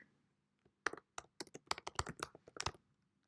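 Fingers type a short title on a computer keyboard: after a near-silent start, a quick, irregular run of about a dozen crisp, close keystrokes, with no talking.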